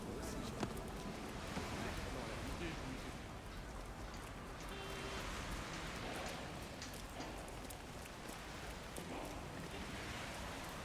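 Steady rain falls throughout in the Resident Evil Requiem game, a dense even hiss of drops spread over the whole span at low volume, with a voice faintly in the background.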